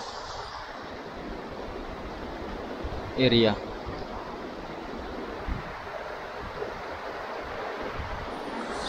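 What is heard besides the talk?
flowing river water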